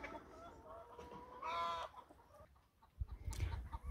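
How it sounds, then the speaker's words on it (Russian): Pasture-raised chickens outdoors in January cluck close by in a short burst of harmonic calls, followed by rustling and scratching noises near the end. "курочки"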